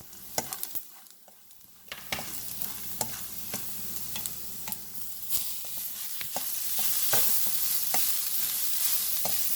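Grated coconut and green chillies frying in a pan while being stirred, quick scraping strokes over a sizzle that grows steadier and louder toward the end, no talk.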